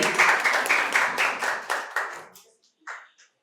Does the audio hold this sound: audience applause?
yes